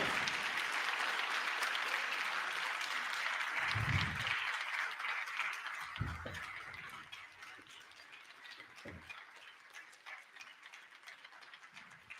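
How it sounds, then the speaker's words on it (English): Applause from the chamber audience at a State of the Union address, a broad steady wash of clapping that gradually thins out, with a few low thumps and bits of voice underneath. "Are Democrats clapping that?"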